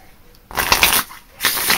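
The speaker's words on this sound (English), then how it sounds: "Ruffle shuffles nicely as well." Two bursts of a card riffle shuffle, a crisp rapid fluttering of playing cards, close up with a short pause between them.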